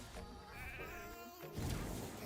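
In a video game, a champion turned into a sheep gives a short, close, wavering bleat lasting about a second, followed by a dull thud.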